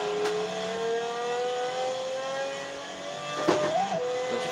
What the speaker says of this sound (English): Look at the handbrake turn.